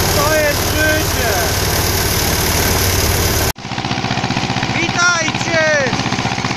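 A tractor engine runs in a field with a steady, loud, chugging idle throughout, broken by one brief cut, while voices talk over it.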